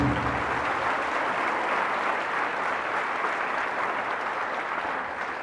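A church congregation breaks into loud, sustained applause, a thick continuous roar of clapping hands that holds steady from start to finish before easing slightly at the end, with no voices heard.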